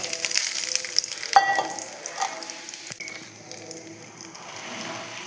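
Garlic sizzles in sesame oil in a pan, a steady bright frying crackle with a few sharper pops and clicks as it is stirred, close and moderately loud with no talking.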